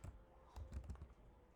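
A handful of soft, closely spaced key taps on a computer keyboard, near and fairly quiet, clustered in the middle of an otherwise hushed moment.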